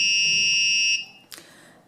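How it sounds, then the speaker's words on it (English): A piercing electronic buzzer on an Arduino laser obstacle detector with an LDR sensor sounds steadily for about a second, then cuts off, followed by a brief click and quiet. "when we prevent the LDR sensor from receiving light, the alarm goes off and the red LED starts flashing"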